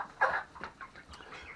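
A chicken clucks close by, one louder cluck followed by a few softer clucks from the flock in a brief, quiet moment.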